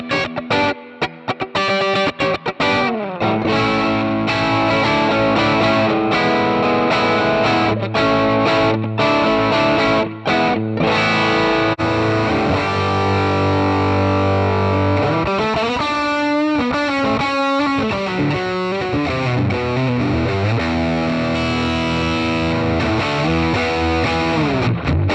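Heavily distorted electric guitar through a Joyo Preamp House set to a Mesa Boogie-style amp voice, thick low-end chugs and sustained chords with fast riffing, loud and continuous, close with no talking.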